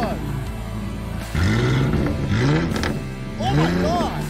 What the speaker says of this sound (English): This is how it sounds without the muffler.